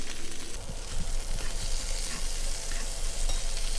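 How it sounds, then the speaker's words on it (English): Baby bok choy sautéing in filet mignon meat juices over medium-high heat, a steady close sizzle and crackle of frying with a few stirring clatters, no voices. "Use the meat juices to saute the bok choy."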